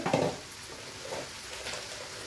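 Onion and spices, turmeric, homemade Agri Koli masala and garam masala, frying in oil in a pan, a steady soft sizzle with occasional stirring scrapes, close and moderately loud.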